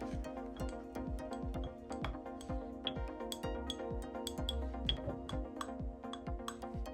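A faulty BMW S54 VANOS solenoid valve block clicks in rapid repeated bursts, the ticks sharp and metallic over a steady hum, with one valve sounding muted.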